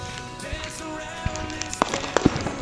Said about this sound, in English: Small missile battery.